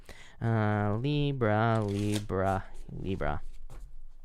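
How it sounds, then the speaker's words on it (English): Tarot cards being shuffled by hand, a crisp riffling and rustling heard under a prominent voiced, melodic tone that sounds like singing or humming. "So I'm trying to make sure I shuffle it really well."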